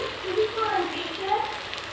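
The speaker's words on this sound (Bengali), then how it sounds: "এবার আমি বড়াগুলো ভেজে নেব।" Motor dal lentil fritters sizzle in hot oil in a wok, a soft, steady crackle at moderate volume, with no speech over it.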